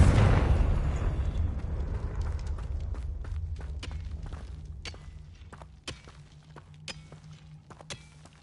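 A Confringo explosive spell in Hogwarts Legacy goes off as a loud boom, then rumbles and decays slowly while scattered sharp pops and clicks follow at a distance.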